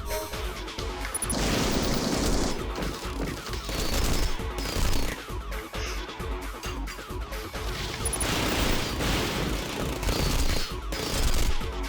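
Sustained machine gun fire in the video game Rengoku: The Tower Of Purgatory, dense rapid bursts with booming impacts and crashes, loud and continuous throughout.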